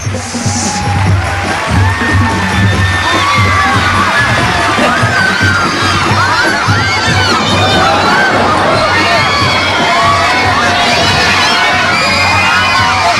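A large, noisy crowd of children shouts, whoops and cheers continuously and up close at a lively gathering, with a steady low hum running underneath the whole time.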